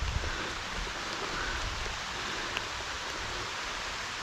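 Heavy rain pours down over a garden in early summer, a steady, dense, close hiss that stays even throughout with no voices.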